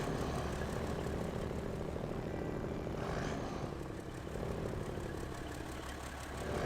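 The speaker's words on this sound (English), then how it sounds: "It's got a very burbly engine, like a very, very burbly engine." A heavy truck in SnowRunner with a two-stroke Detroit diesel gives a steady, burbly engine drone, loud and close, holding at a constant rumble for the whole stretch.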